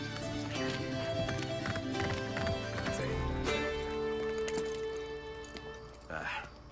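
Rapid clip-clop of horse hooves galloping steadily in the video game Assassin's Creed Brotherhood, amid busy game music and effects, with a brief whinny-like sound near the end.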